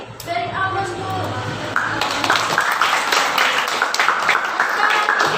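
Classroom applause for a student's answer: a burst of many hands clapping that rises after a spoken voice and continues steadily, fairly loud and close, with chatter mixed in.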